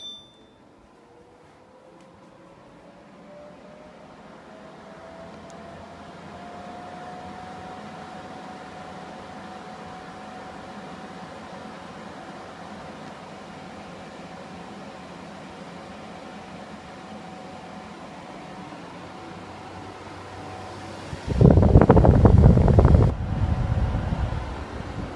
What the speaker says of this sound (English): the turbo mode. And this thing is crazy fast